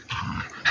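A dog makes a brief, close growl with a rising yelp-like edge, in a short burst of excited canine noise.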